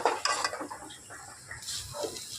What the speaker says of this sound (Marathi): आता त्यामध्ये आपण जे मटण शिजवून घेतलेलं आहे ते ॲड करायचं